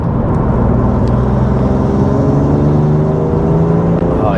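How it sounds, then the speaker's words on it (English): A manual BMW M2 Competition with an anti-lag remap of about 520 bhp revs hard, its turbo spooling, a loud close continuous engine roar with rising whirring tones. "the turbo spooling up is very addictive to try and coax them into life"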